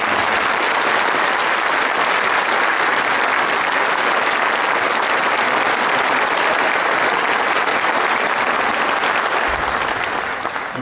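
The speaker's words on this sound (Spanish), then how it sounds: "Cerremos este sencillo homenaje con un aplauso a memoria de la ingeniera." At an engineering graduation ceremony, a large audience gives loud, continuous applause as a tribute in memory of an engineer, a thick unbroken wall of clapping that runs for about ten seconds.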